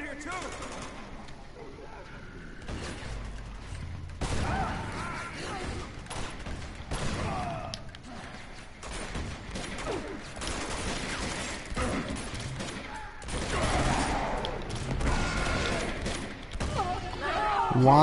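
Bursts of gunfire and combat noise from the action game Uncharted 2 during a hard-difficulty fight against guardian enemies, dense and continuous over the full stretch, with a voice talking over it at times.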